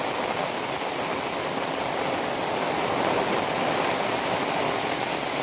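Water from a full dam rushes steadily in a broadband roar. The sound is even and continuous, with no voices.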